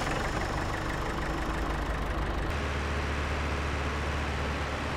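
A John Deere tractor engine in the Farming Simulator Generations game runs in a steady, continuous drone, loud and unbroken, with the low rumble shifting slightly midway and no talk over it.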